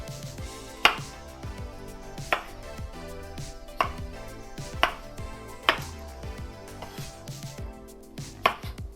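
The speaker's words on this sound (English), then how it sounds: "I'm just going to half these new potatoes." A knife thunks through potatoes onto a cutting board in steady, evenly spaced cuts, with soft music playing underneath.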